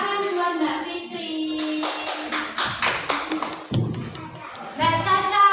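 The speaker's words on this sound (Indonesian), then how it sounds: "Tepuk tangan buat Mbak Fitri." A class of young children claps for a classmate, a short burst of quick hand claps and taps over a teacher's voice and some children's chatter.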